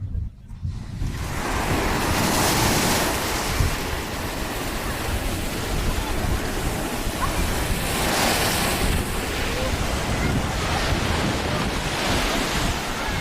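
Waves wash steadily onto the Caspian Sea shore in a loud, continuous surf roar mixed with heavy wind buffeting the microphone, with no talking heard.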